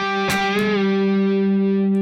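Distorted electric guitar playing a half-step bend from a riff: one sustained note rises slightly and holds, with a faint pick attack, clear and alone.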